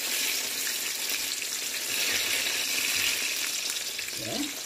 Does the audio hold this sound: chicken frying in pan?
yes